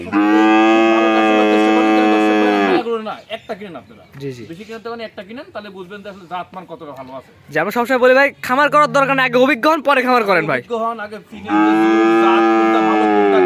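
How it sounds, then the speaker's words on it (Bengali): Cattle moo loudly and close by, long drawn-out calls opening and closing the stretch, with shorter lowing sounds in between. "এই তিনটা গরু আসছে দেখাচ্ছি"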